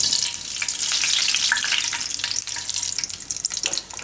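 Mustard seeds hit hot oil in a pan and sputter with a loud, bright hiss full of rapid crackling pops, close by and continuous throughout, and nobody speaks.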